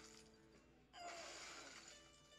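Frozen minions shattering in the card game Hearthstone: a quiet icy hum, then a sudden crystalline crash of breaking ice with a bright tinkling tail that lingers and fades, no talking.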